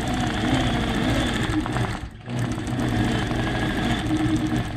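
Sewing machine stitching a quilting spiral, a fast, even mechanical whir that runs steadily, pauses briefly midway, then resumes at the same close, loud pace.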